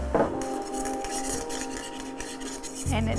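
A utensil scrapes steadily across a hot pan as white wine deglazes it over red onion and lifts the browned fond. The scraping is close and continuous, with a metallic clink at the start and again at the end.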